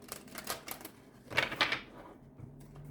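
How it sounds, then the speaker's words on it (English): Large oversized tarot cards being shuffled by hand, giving a few crisp riffling, papery bursts with short bristly flurries, close and moderately loud with no talking. "I can only shuffle them one way."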